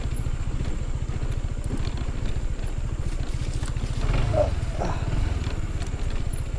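A Yamaha PG1 motorcycle rides slowly over a slippery, rough dirt road. Its engine putters in a steady low rhythm, with rattles and jolts from the bumpy ground and no talk.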